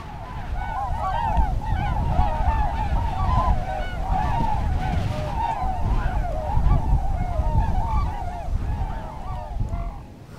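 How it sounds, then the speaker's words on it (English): Tundra swans call continuously in a noisy flock, dense overlapping honking and whooping voices, loud and close throughout with a low rumble beneath. "The tundra swan is a small variant of the swans found in the northern hemisphere."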